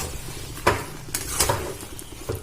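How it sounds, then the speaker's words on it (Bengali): A fried ground spice mix being stirred in a cooking pot for a vegetarian elephant-foot yam curry, with a few close, sharp spoon clanks and scrapes against the metal over a low sizzle. "এটা ভালো করে নাড়াচাড়া করে নেব।"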